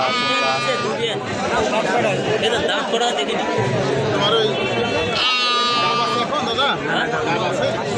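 Sheep bleat again and again at a busy livestock market selling sheep and rams. Loud, overlapping calls sound close by over a constant crowd chatter, with people talking throughout.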